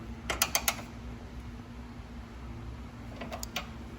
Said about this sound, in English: it's got a different bolt that takes a 4 millimeter Allen socket to tighten down